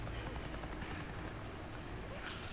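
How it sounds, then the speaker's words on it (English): Helicopter in the Days Gone game, a low, steady chopping drone that is faint and distant, with a voice talking over it. "I just saw a goddamn chopper! Oh, there's a helicopter."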